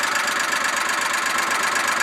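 A repaired Polaris Ranger utility vehicle engine idles steadily, a continuous close mechanical drone with a faint knocking rhythm and no talk.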